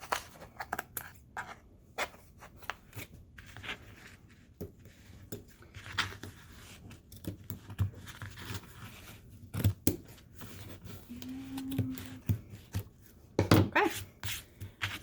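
Scissors snip loose strings off the back of a weaving, with a run of close, crisp, irregular clicks and snips and brief quiet gaps between cuts.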